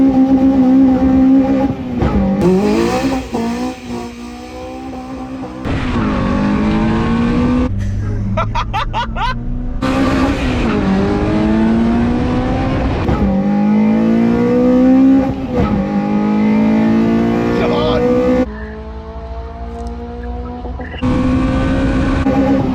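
A Honda Jazz and a Honda Civic Type R drag race, their engines revving loudly with rising pitch sweeps broken by repeated gear changes, continuous and close throughout.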